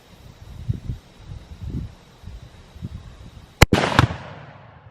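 A Tannerite target blows up when struck by a rifle shot outdoors: a sharp crack followed almost immediately by a loud booming blast that rolls off, after a few seconds of wind and faint rustling.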